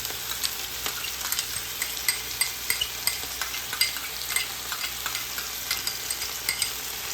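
Ginger and garlic sizzle in oil in a pan for chicken curry while a spoon stirs them, a quiet, close crackle broken by regular scraping strokes and light clicks, without talk.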